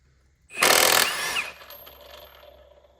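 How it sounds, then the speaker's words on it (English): An impact wrench rattles hard against the big harmonic balancer bolt on a BMW E46 318d, one loud close burst of about half a second before it cuts off and leaves a ringing, fading tail. "Now I'm actually quite tempted to have a go with my impact wrench now on the big bolt to see if it comes off."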